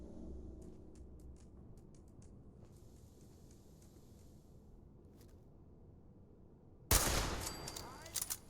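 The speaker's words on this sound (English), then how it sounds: "Apparently nobody hears gunfire in this game." A low rumbling Fallout 4 soundscape at the Corvega Assembly Plant with faint taps, then a sudden loud burst of gunfire near the end.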